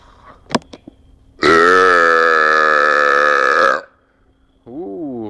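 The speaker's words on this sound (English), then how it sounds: "I'd like to do some burping tonight." A man lets out a long, loud, deep burp lasting over two seconds, with a short clicking sound just before it and a shorter guttural burp or grunt after it. The sound is close and prominent.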